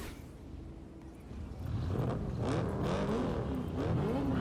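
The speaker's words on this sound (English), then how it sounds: "Whose engine is that?" A car engine in a Night City video game revs and climbs in pitch, rising and falling in waves as it accelerates, loud and sustained against a background hum.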